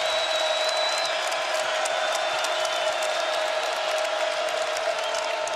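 A basketball arena crowd on its feet during a Kentucky at Missouri game roars in a steady, dense wall of cheering and shouting that holds loud for the whole stretch.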